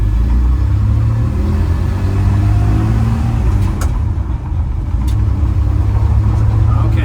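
A Ford F100 pickup truck with a worn brake caliper drives and brakes, its engine giving a loud, steady low rumble that dips briefly mid-way, with faint background talk.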